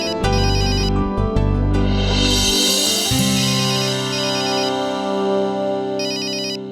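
A mobile phone rings loudly and nearby in a home, playing a melodic ringtone with layered musical tones and repeated chiming patterns that continue throughout without any voices.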